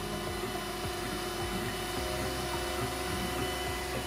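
A Cetus 3D MK2 Extended 3D printer runs with a constant mechanical whir and hum, and shifting stepper-motor tones sit steady and close, with no voices.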